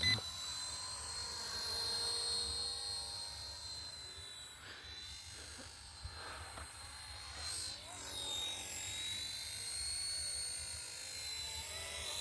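Radio-controlled helicopter flying upside down outdoors on a slightly windy day, a faint steady high whine from its rotors and motor that shifts in pitch as it manoeuvres, heard from a distance.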